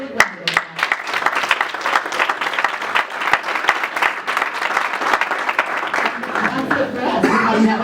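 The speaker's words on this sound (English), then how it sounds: "So a big round of applause." An audience at a networking event gives a big round of applause, steady rapid clapping from a moderate crowd, close and continuous, with some voices in the mix toward the end.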